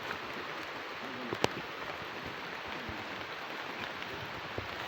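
Rain falls steadily outdoors during a mango harvest, a soft continuous hiss with faint scattered drops and one sharp tap, quiet and even throughout.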